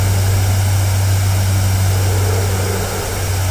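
A Messerschmitt Me 262 A-1A jet engine in a flight video game, a loud, steady drone with a deep constant hum and broad rushing noise, unbroken for the whole stretch.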